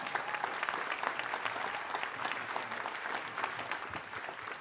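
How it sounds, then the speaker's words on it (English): A crowd at an outdoor BBQ event gives a standing round of applause, dense sustained clapping from many hands that holds steady at full strength throughout. "Let's give him a standing round of applause for Jack Johnson, our senator here in Willia"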